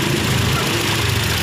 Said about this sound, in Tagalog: ano yung makina niya, palyado